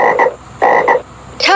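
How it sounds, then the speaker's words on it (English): A toad croaks in three loud, close, rasping calls, each a quick double pulse, with short gaps between them. "Toad."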